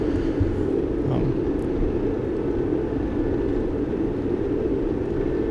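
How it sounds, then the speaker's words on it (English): A steady, dense low rumble of open-ocean ambient noise heard through a sonobuoy hydrophone in the DCS flight simulator, continuous and unchanging, with faint higher hiss on top. "that's the sound of hydrophones, what they really sound like in the open ocean"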